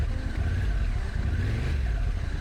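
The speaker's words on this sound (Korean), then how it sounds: "시동을 걸어 보겠습니다" Triumph Street Triple 675NK motorcycle engine idling with a steady, even hum and a slight rise in revs, close by with no voices.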